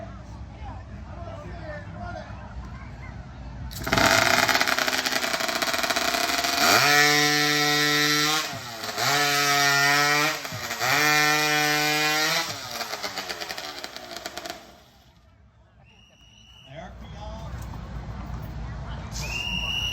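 A hot saw, a modified high-powered chainsaw, rips through timber at a New England lumberjack competition, screaming loudly in bursts with pauses between cuts, over crowd noise and an announcer's voice.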